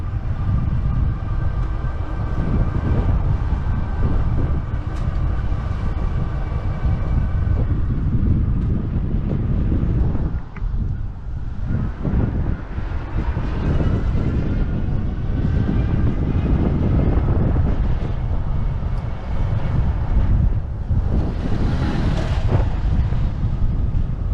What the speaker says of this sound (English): I left the sound on the bike unedited so you can get an idea of the loudness of the bike and the environment around it.